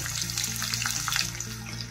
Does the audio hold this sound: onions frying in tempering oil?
yes